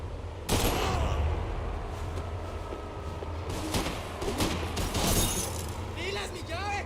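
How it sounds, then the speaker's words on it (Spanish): Rapid bursts of gunfire in the video game Max Payne 3 crackle and pop throughout, with sharp shots and clatter layered over shouting voices, loud and chaotic. "¡Cuidado con los tiros!"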